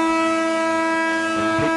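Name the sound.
full-time siren at a rugby league match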